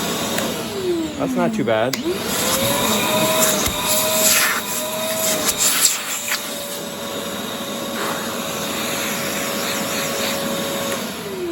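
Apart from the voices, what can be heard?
Mastervac 10L wet/dry vacuum running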